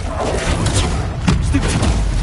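A Protego shield spell in the video game Hogwarts Legacy, producing a dull booming thump with a rumbling, washing burst over a constant noisy game background, one heavier hit about midway.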